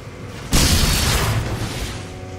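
A single heavy boom from a gunshot in the video game Enslaved erupts sharply, close and loud, then rolls into a long, dense rumble that slowly fades over the next two seconds.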